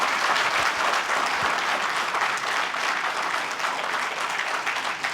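Audience applause at a talk about thalassemia treatment results fills the whole stretch, dense and steady clapping from a crowd at moderate volume.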